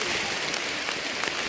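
Steady rain falls during a hike at a camping ground, a dense even hiss of drops on surfaces with faint irregular patters, close and continuous, no voices.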